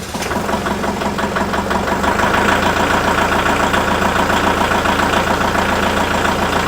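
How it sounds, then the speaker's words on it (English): A tractor engine, jump-started with a GOOLOO GP4000 booster pack, runs steadily after a brief start, its close, loud, even idle rumble holding continuous with no voices. "With this power bank hooked up to the tractor, when I start it, you should be able to hear how fast it cranks"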